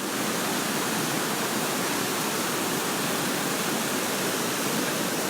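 Düden Waterfall in Antalya pours from coastal cliffs in a loud, unbroken roar of falling water, steady and close with no other sounds.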